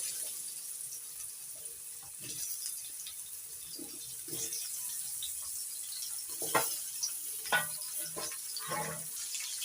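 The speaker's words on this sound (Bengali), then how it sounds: "এবার আলুগুলো ভেজে নেব মাছের তেল ছিল ওই তেলের মধ্যে ভেজে নিচ্ছি" Potato pieces fry in leftover hilsa fish oil in a pan, giving a steady, moderately quiet hiss with scattered pops and crackles near the end. No one speaks.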